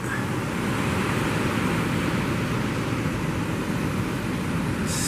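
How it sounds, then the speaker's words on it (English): Big ocean waves break and churn in the surf at the St Lucia Estuary mouth, heard as a continuous loud, washing roar with no break. "but there's some real big waves out there today"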